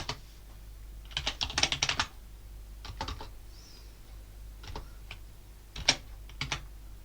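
Bursts of quick keyboard typing, clicking keys in short clusters separated by brief pauses, close and fairly clear with no talking.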